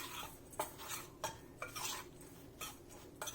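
Cinnamon and nutmeg stirred together in a bowl for an apple crisp, a spoon scraping and clinking against the dish in short, close bursts with brief pauses between strokes.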